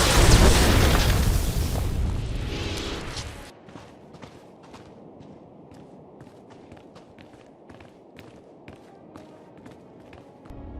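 Hover tanks blow up in the Star Wars: The Old Republic video game, a loud rumbling boom with rolling debris that fades after a few seconds into a lighter stream of scattered crackles and ticks.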